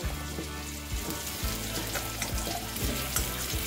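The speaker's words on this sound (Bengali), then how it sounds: "এবার তেল গরম হয়ে গেছে, আমি তেলের মধ্যে আলুটা এবার দিয়ে দিচ্ছি, দিয়ে ভালোভাবে লাল লাল করে ভেজে নেব" Potato pieces go into hot oil and fry with a steady, close sizzle that carries throughout, while a tonal musical bed with a low, stepping bassline plays underneath.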